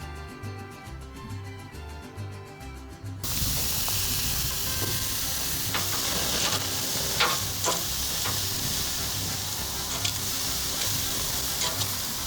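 Beef ribs marinated with lime, garlic and salt sizzle loudly on a grill after a quieter opening, with steady frying hiss and occasional crackles and pops.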